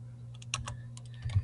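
Quick, light keystrokes on a computer keyboard as a folder name is typed, a short irregular run of soft clicks over a low steady hum.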